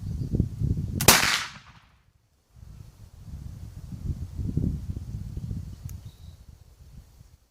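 A single loud crack from a Harper's Ferry 1803 flintlock rifle fired outdoors, a sharp report that decays over about a second into a brief silence, followed by steady wind and rustling.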